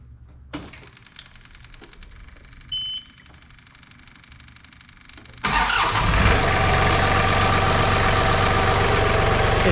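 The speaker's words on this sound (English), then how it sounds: "Let's watch this engine turn over." John Deere 3046R compact tractor with a Yanmar diesel engine ticking and clicking while the ignition is switched on, then the engine cranks and catches, settling into a loud, steady idle.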